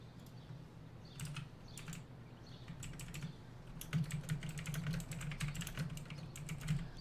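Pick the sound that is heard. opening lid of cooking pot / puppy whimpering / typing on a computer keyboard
typing on a computer keyboard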